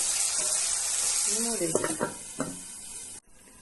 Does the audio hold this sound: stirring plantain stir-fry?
yes